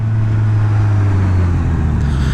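A 2020 Suzuki Katana motorcycle engine runs while riding, a steady, close-up mid-pitched drone with a faint rise in pitch near the end.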